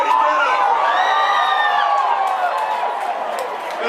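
A big crowd at the Cal Big Game bonfire rally cheers and whoops, loud and continuous with overlapping voices, fading slightly toward the end.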